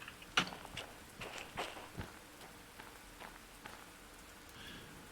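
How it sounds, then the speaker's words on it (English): Rain falling in the Derail Valley train simulator game, a soft steady patter on surfaces with a few sharper drops and light footstep-like taps, moderately faint and with no talk. "So this is very hard to do in the dark, in the rain."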